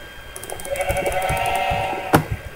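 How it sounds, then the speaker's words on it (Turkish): Sheep in the Minecraft video game bleating in a quick run of short, wavering calls, fairly loud and close, ending with a sharper bleat near the finish. "Şurada koyun var."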